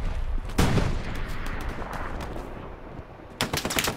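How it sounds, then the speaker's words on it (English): Bursts of automatic gunfire from a video game battle, with a loud volley early on, sustained rattling fire through the middle, and a fresh run of rapid shots near the end. "Oh, they're shooting me to my right. Machine gunner to my right."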